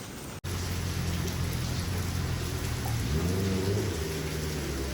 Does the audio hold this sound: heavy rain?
yes